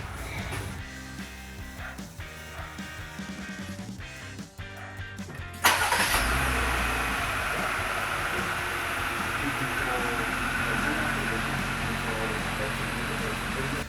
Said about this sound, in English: let's start the car up and see how these work.